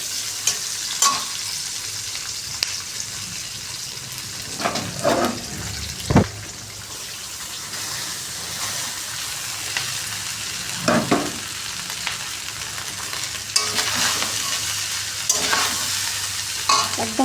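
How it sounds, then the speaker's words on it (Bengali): Vegetables, cashews and raisins stir-fry in a pan with a continuous sizzle, broken by repeated clanks and scrapes of a spoon against the metal, close and fairly loud. "কাজু কিশমিশ সবজি ভাজা হয়ে গেছে কম বেশি।"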